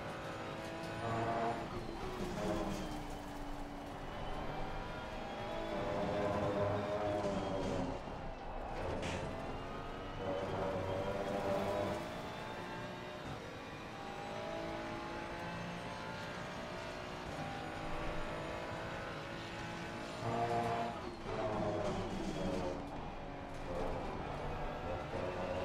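McLaren race car in a racing video game rounding a tight bend at the Red Bull Ring, a steady high engine whine with harmonics rising and falling through gear changes, continuous and fairly loud.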